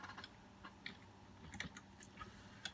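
Keys on a computer keyboard tap out a number in a short run of light, uneven clicks, faint and close against a quiet room hum.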